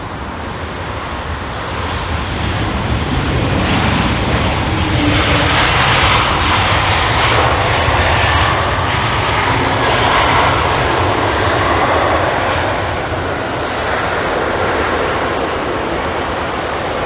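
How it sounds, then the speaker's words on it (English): A Swiss Airbus A220 arriving from Geneva at London Heathrow, its jet engines a loud, steady broadband roar that swells slightly and holds throughout, with no one speaking. "The Swiss A220 there, arriving from Geneva."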